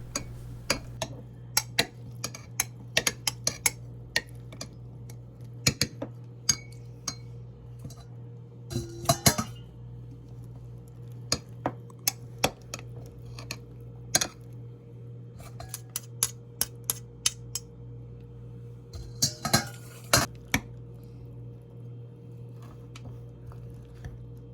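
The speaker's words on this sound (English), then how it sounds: "Once mixed, add another few spoonfuls of beans and mix again till all the beans have been added to the jar." A spoon stirs sticky natto-coated soybeans inside a jar, giving irregular clinks and scrapes against the glass over a low, steady background hum.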